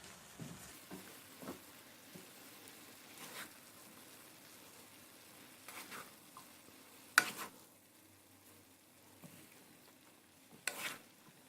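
Fried rice with hot sauce is stirred in a pan with scattered soft scrapes and light sizzling. A few sharper utensil knocks stand out against a quiet background.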